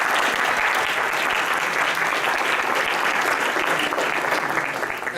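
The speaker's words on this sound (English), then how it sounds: "So I want to give you a round of applause, Maureen." A packed hall audience at an Ethical Society gathering breaks into sustained applause, a thick, even wash of many hands clapping at moderate distance with no talk on top.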